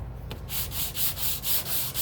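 Sandpaper rubs wood in a crosshatch pattern, a close rhythmic scratch of about six strokes of even, steady loudness, with no voices.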